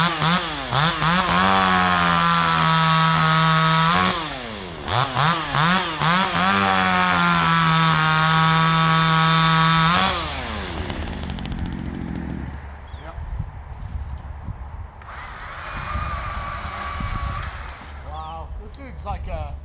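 Cordless Stihl MSA 200c or JonCutter G2500 chainsaw whining loudly at high revs in repeated long runs, then dropping away to quieter background noise with a later short burst, with people talking nearby.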